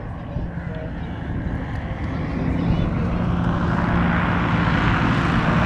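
A REV XS light trike aircraft makes a pass, its propeller engine droning and rising in level as it approaches, with a voice talking over it.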